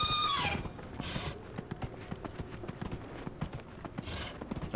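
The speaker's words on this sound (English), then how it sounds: "Time to get out the reindeer horse." Video game horse-like reindeer mount in Dragon Age Inquisition: hooves clop in a quick, irregular rhythm over a steady background hum, with a whinny-like tone at the start and soft whooshes.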